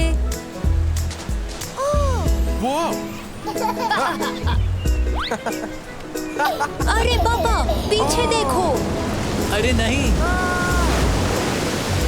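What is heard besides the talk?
waves at a waterpark in an animated nursery rhyme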